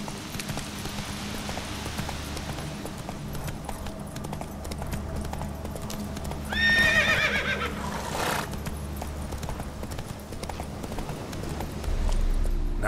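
Roach, Geralt's horse in The Witcher 3: Wild Hunt – Hearts of Stone, trots with steady, close hoofbeats throughout, and a loud whinny breaks in around the middle over game ambience.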